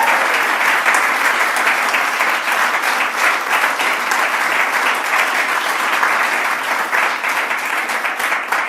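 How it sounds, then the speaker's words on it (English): An audience at a Mississauga event with Premier Ford applauds Michelle D'Emmanuel, the founding CEO: continuous, loud, even clapping from many hands that fills the whole stretch without speech. "let's clap for Michelle"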